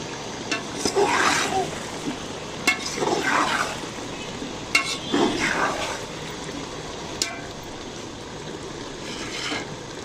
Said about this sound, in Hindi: अब इस ज़ीरे को हम अच्छी तरह मिक्स करेंगे।